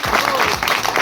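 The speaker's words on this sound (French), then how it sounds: "je vous demande un tonnerre d'applaudissements pour Olivier Deleu" Campaign meeting crowd in Noisy-le-Sec breaking into a burst of dense applause, loud and continuous with some voices mixed in.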